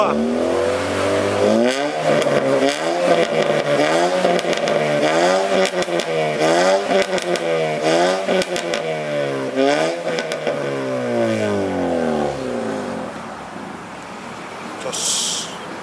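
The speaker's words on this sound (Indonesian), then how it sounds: "Kayak gini ya suaranya di Cibrio yang DK01 V2." A motorcycle fitted with a Cibrio DK01 V2 exhaust muffler revs repeatedly, its throttle blips rising and falling in a loud, raspy pattern close by, with brief talk under the engine noise.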